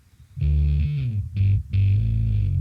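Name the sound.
guitar with whammy pedal pitched down an octave as bass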